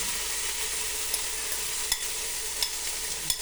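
Marinated chicken breast frying in a pan with onions, a steady close hiss of sizzling oil broken by a few faint clicks and scrapes of stirring.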